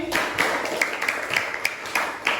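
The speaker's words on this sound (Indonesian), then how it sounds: "beri tepuk tangan sekali lagi" A classroom of students claps along together in a sparse, rhythmic pattern of distinct sharp claps, moderately near.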